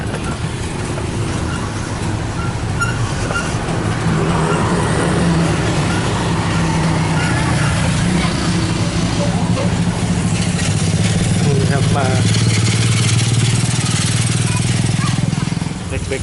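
Tuk tuk engine while riding through Luang Prabang, a steady close droning rumble with road and wind noise running throughout, someone talking over it the whole time.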